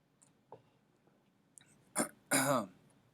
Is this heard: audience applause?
no